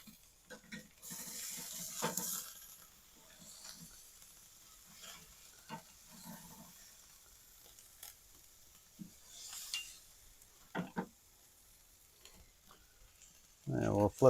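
Steak sizzling faintly on a salt block on a Kamado BBQ, a quiet intermittent crackle with soft scraping and handling knocks, a louder clatter near the end.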